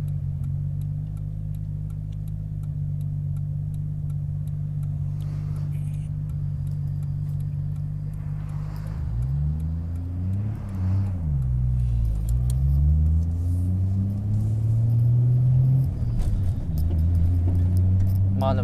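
Car driving on an expressway in Ibaraki, a steady low engine and road rumble throughout, the drone rising and shifting in pitch partway through as the car speeds up, with brief voices in the cabin.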